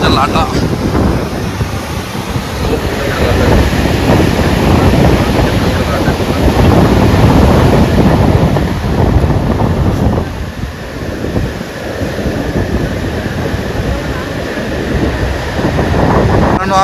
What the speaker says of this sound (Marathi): समुद्राच्या लाटा.